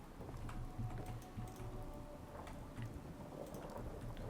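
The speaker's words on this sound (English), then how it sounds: "Ooh, and it's raining out." Rain falls steadily in the Fallout 4 video game, a faint, even patter with soft low rumbles of thunder beneath it and no voices.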